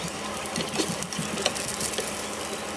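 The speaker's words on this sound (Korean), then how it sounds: "기름이 튀니 조심해주세요" Eggs for a rolled omelette frying in a hot oiled pan, with steady close sizzling and scattered sharp pops of spattering oil.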